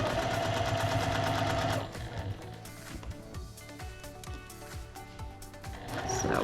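A sewing machine stitches a quilted table runner made from a pre-cut kit, its motor whirring loudly at first, then dropping to a quieter, uneven run with small clicks and mechanical ticks before speeding up again.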